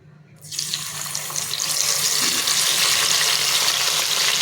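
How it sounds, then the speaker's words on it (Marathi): Spoonfuls of salted whole masoor lentil mixture dropped into hot oil, bursting into a sudden loud bubbling sizzle after a moment of quiet and growing fuller as frying goes on. "आता मी थोडे थोडे करून तेलामध्ये टाकून घेते।"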